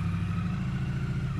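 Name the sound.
Triumph Street Twin motorcycle engine running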